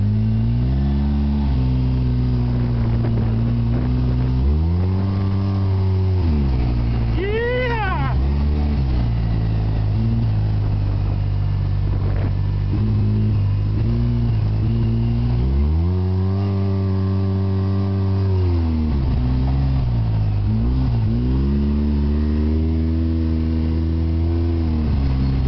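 A Polaris RZR 800 UTV engine drives around a track at an easy pace, a steady, loud mid-pitched drone that rises and falls as the throttle opens and eases, with several revving surges across the run.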